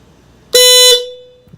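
A Hella Supertone horn fitted to a 2018 Honda Grom motorcycle sounds one loud, close honk of about half a second, with a ringing tail that fades after the blast.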